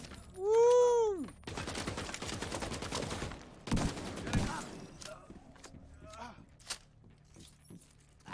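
Gunfire rattles in The Division 2: a rapid burst of shots, then another shorter volley and a few scattered cracks, loud and close, with a whooshing sweep beforehand and a voice briefly heard.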